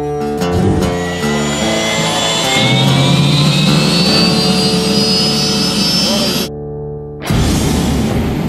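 A rising turbine whine climbs steadily over a loud, roaring gas turbine car engine, like a jet spooling up, with a brief dropout near the end.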